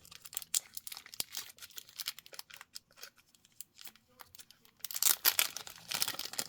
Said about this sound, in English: Let's just quickly unwrap this.